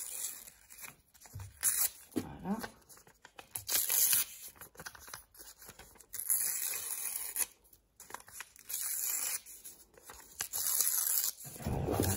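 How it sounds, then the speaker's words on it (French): The edges of a sheet of paper are torn by hand in a series of close, crisp ripping bursts with brief pauses between, and a single word is spoken once. "Voilà, donc on a déchiré les bords du papier."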